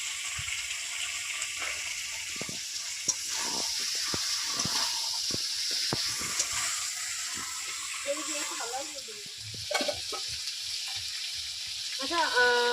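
Food frying in a pan hisses steadily and close by while it is stirred, with scraping and knocking strokes throughout and brief voices near the end.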